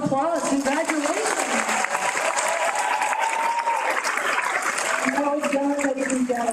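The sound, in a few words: audience applause at graduation ceremony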